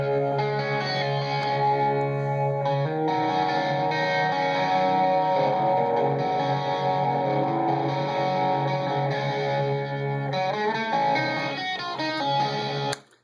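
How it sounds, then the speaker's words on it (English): A rootsy, Vox-style electric guitar track with flange on it sustains layered, shimmering chords over a long continuous passage, thick with swirling modulation and a slightly gritty edge, steady and loud until an abrupt stop. "It's kind of a like rootsy, voxy kind of tone, and I've got some flange on it"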